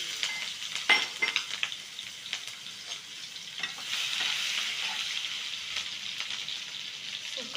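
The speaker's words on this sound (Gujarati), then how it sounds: "એમાં રાઈ તળવા નાખી દઈએ" Mustard seeds (rai) fry in hot oil with a steady, close sizzle and fine spitting crackles, building slightly louder in the second half, with no voices over it.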